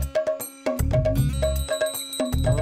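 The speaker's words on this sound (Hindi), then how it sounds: "अरे वीरू, तुझे कुछ घंटी बजने की आवाज सुनाई दे रही है?" A bell rings in quick repeated metallic strokes, loud and close, with a low rumble beneath some of the strikes.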